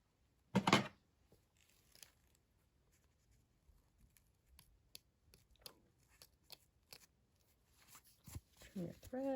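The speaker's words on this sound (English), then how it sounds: "trim your threads" Small scissors snip sewing threads on a fabric sash project, a few faint crisp clicks and rustles scattered between quiet stretches, close to the listener, with a louder handling noise at the start and end.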